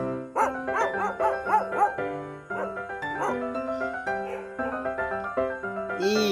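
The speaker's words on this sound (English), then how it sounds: "D for dog" A dog barks repeatedly in a rhythmic, tonal, almost sung pattern over a children's phonics song backing, fairly clear and upfront with short pauses between barks.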